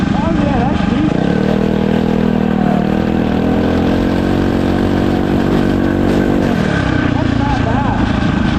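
An all-wheel-drive hybrid dirt bike with a Tillotson engine drones steadily as it rides past, its pitch rising and holding, then dropping near the end, loud and close with voices over it.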